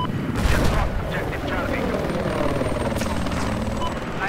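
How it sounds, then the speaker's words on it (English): A helicopter's rotor thrum drones steadily in Battlefield 4, mixed with distant gunfire and explosions from a busy battle scene. "Incoming chopper"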